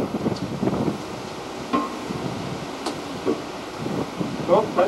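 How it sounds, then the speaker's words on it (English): Strong wind blows across the microphone in gusty rumbles while people talk quietly underneath. "It's so windy, the match blows out right away."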